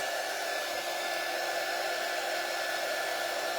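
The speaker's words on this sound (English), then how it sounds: "Looking for my dryer." A handheld dryer blows steadily during a holiday craft project, a continuous, close, even whooshing drone with no voices over it.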